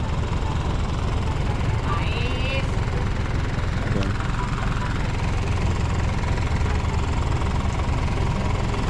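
A used surplus car engine idles with a steady low rumble, close and constant for the whole stretch, with faint background sounds over it.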